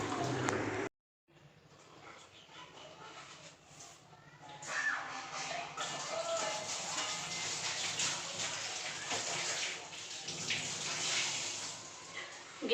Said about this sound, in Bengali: এটা বাসন কুসনগুলো আছে সব মেজে নেবো